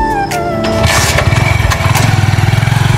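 A sport motorbike engine starts and settles into a loud, close, rapidly pulsing putter as it idles.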